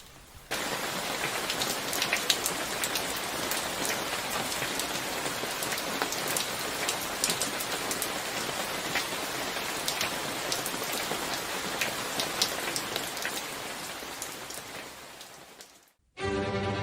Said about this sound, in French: il y eut une grosse pluie sur le jardin autour de la bicoque branlante